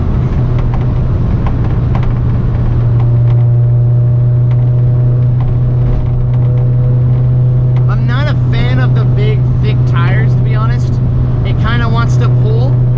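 A 2002 Honda S2000 AP1 engine drones loudly and continuously from the cabin as the roadster accelerates, a strong steady tone holding throughout while someone talks over it in the second half.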